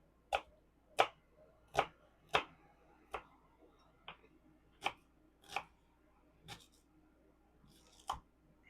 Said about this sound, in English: I'm not a professional chef when it comes to chopping onions